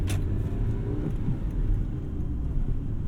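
A 2000 Honda Civic Si accelerates hard with the throttle wide open, its engine giving a steady, loud, close rumbling drone that continues for the whole three seconds with no voices over it.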